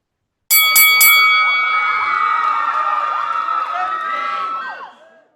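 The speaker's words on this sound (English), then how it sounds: "ring the bell" A bell rings out with two or three quick strikes to open a wrestling news segment on a podcast, followed by a loud, sustained burst of crowd cheering that fades out near the end.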